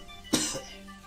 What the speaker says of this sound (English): gonna cough now.